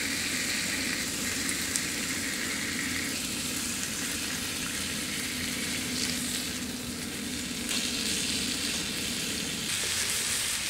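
Onions fry in a pan over a campfire outdoors on a frosty winter night, giving a dense, continuous sizzle and crackle heard up close without any talking.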